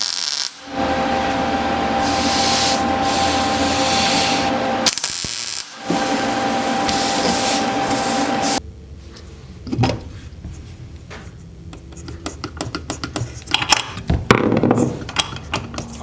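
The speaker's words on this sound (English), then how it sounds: "I'm gonna weld a little extension onto this that replaces where this would sit" Welding a small steel extension onto a bash bar for a Lexus GS300 drift car: a steady, loud crackling buzz in two long runs with a short break, followed by scattered metallic clicks and clanks.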